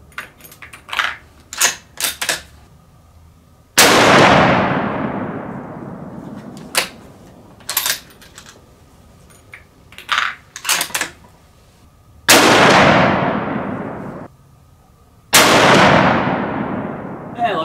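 Several sharp, loud .308 Winchester rifle shots firing 125gr Speer TNT loads, spaced a few seconds apart. Each shot booms and decays in a long ringing echo, with quieter clicks and handling noises between them.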